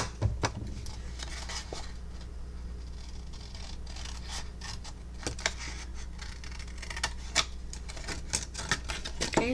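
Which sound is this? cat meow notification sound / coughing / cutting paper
cutting paper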